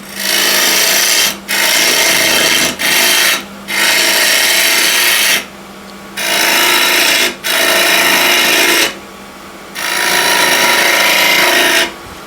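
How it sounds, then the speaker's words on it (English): A spindle gouge cuts wood from an old window sill spinning on a lathe. Loud, close, continuous rasping cuts come in repeated bursts of one to two seconds, with short breaks as the tool lifts. No one speaks. "Again, spindle gouge."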